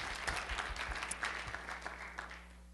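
Audience applause at a Take Back America 2008 political gathering, following a speech on global warming; a steady wash of clapping from a large hall that stays fairly distant and soft throughout.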